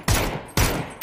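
Three sharp, loud gunshots from PUBG fire in an even rhythm about half a second apart, each a hard crack with a short decaying tail, close and with no talk.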